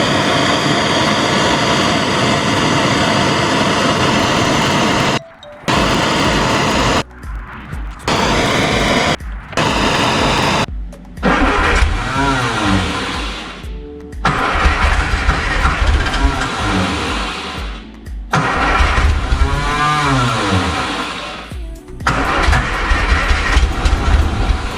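A 1960 MG MGA 1600 Roadster engine with low compression cranks and runs roughly with loud mechanical rumble, cutting out several times and restarting in bursts.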